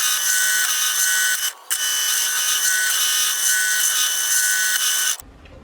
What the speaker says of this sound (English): Using a drill press with a hardened drill bit so that it goes through the steel easily